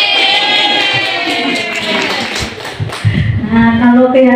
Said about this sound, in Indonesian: Tepuk tangannya buat kita ya.